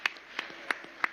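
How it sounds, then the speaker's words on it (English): Sparse, faint clapping at a public lecture marking a democracy anniversary, four or five separate soft claps spread evenly across a brief moment in a quiet hall. "A round of applause, please."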